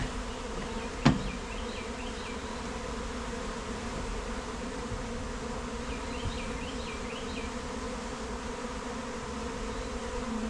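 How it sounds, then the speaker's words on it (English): A dense, steady drone of many honeybees packed on a hive frame being pulled out, continuous and close throughout, with a single sharp knock near the start and no talking. "you can feel how many bees are in there"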